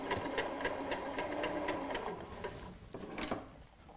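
A sewing machine stitches piping in a fast, even mechanical whir for about two and a half seconds, then stops, leaving a single sharp click and a quiet pause.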